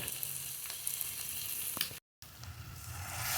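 Vegetable chowmein sizzles in a pan just after soy sauce goes in, a close hissing fry with a couple of stirring scrapes, a brief dropout midway, then the sizzle swelling again.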